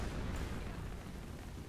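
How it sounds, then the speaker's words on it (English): Fire beam spell from the Tonal Architects magic mod in Skyrim Special Edition, a steady dense roaring rush that holds at the same loudness the whole time with no breaks. "Oh, so it is a straight up fire beam."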